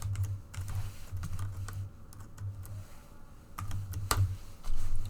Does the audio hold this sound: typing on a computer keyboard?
yes